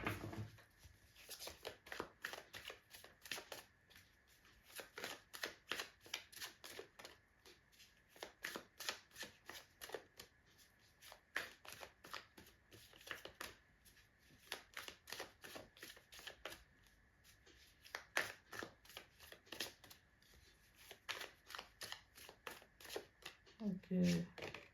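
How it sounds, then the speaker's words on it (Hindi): Tarot deck being shuffled by hand for a reading, a long run of soft, rhythmic riffling and card slaps close to the mic, continuing at a steady pace with brief pauses. "जब तक मैं शफल कर रही हूँ अपना पूरा फोकस रीडिंग पे बना के रखो"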